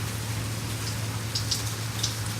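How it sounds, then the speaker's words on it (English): Heavy rain falling outside a dorm window, a steady dense hiss with occasional louder drops and a low hum beneath. "as you see, it's raining really bad"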